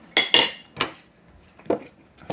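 Metal cutlery clinking against a plate during a mukbang meal of fried chicken, a few sharp scrapes and taps close up with brief quiet pauses between them, no voices.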